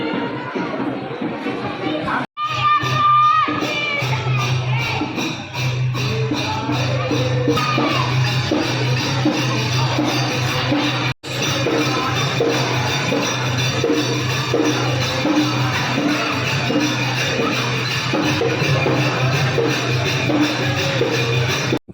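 Large crowd at the Mhaismal hill temple near Khultabad, a steady wash of overlapping chatter and shuffling with a low continuous hum underneath, close and busy throughout, briefly cut out twice.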